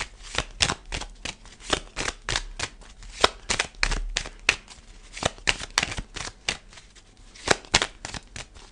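Tarot cards being shuffled and cut by hand, a quick series of crisp riffling bursts with short pauses between them, close and fairly quiet, no voices.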